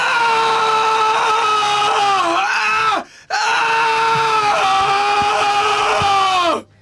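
A man screams in pain in an anime scene, two long strained howls from close up with a brief break between them, loud and raw.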